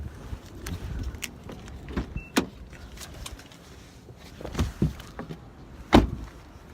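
A parked car being locked on a city street, with a series of short clunks and clicks of locks and door mechanisms spread over several seconds against quiet background noise.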